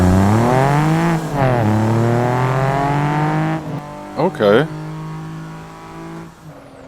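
A modified Toyota Celica GT4 engine in Assetto Corsa revs hard through several upshifts, pitch climbing and dropping with each gear, then a few quick blips before settling; a voice speaks briefly over it.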